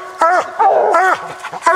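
Hunting dogs bay and bark in bursts up at a tree during a coon hunt, loud and close, with howling, yelping calls broken by short pauses.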